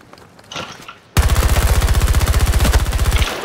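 Automatic gunfire in Battlefield 2042 bursts in after a second of quiet game ambience, a loud, rapid, evenly spaced stream of shots that runs continuously to the end.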